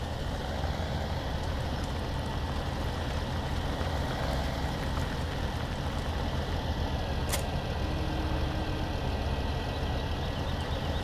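Steady low engine rumble from a small tractor with a plow attached in Farming Simulator 17, idling continuously and evenly with no voices over it.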